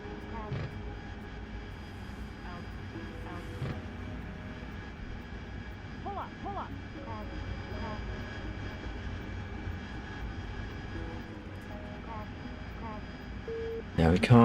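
A steady jet aircraft engine drone in the DCS World flight simulator game, holding a constant whine with a few brief clicks and a louder burst near the end.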